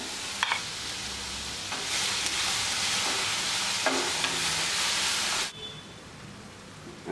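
Onion paste with tomato sauce and soy sauce stir-fried in a pan for chilli parotta gravy, a steady loud sizzle with scraping stirs for about five seconds, then cutting off to quieter frying.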